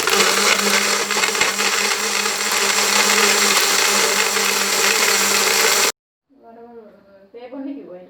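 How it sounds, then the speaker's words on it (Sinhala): An electric blender roars loudly for about six seconds, blending soursop juice with ice cream, then cuts off abruptly and a voice speaks briefly afterward. "අපි දැන් බ්ලෙන්ඩ් කරලා බලමු."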